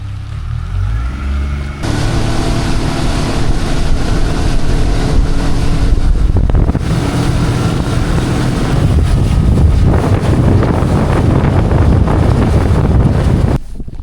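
Heavy, continuous wind buffeting outdoors with a broad rushing roar, likely rain and spray mixed in, loud and close throughout.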